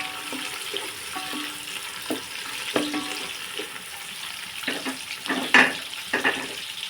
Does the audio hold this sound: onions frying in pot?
yes